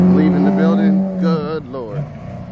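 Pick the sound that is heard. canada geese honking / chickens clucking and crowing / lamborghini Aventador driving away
lamborghini Aventador driving away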